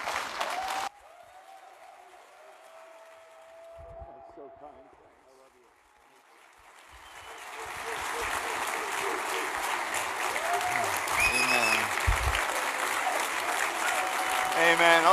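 Audience applause welcoming a pastor at a church gathering, the clapping swelling from a quiet start into a loud, sustained roar of a large standing crowd, with a voice talking over it.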